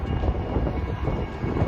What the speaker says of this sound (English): This seems to be a long freight train.